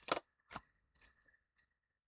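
Several short papery riffles and snaps of cards being shuffled, a couple of louder bursts followed by softer ones, close up with no talking.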